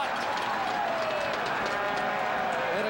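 A large football stadium crowd roars continuously at a CFL West Semi-Final playoff between the BC Lions and Saskatchewan Roughriders, a dense, loud, sustained wall of cheering with no break.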